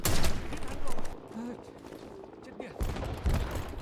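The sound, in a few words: grenade explosions in an online shooter video game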